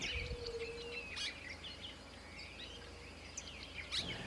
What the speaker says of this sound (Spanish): Celestino común.